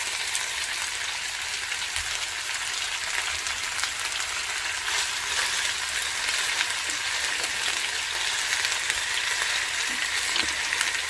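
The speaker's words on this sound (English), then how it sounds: "I'm just going to kind of let it brown for a minute or two, because these are quite thick strips" Thick chicken strips brown in a pan with a steady, dense sizzle and crackle that stays close and even throughout, with no voices.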